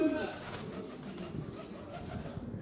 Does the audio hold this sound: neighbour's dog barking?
no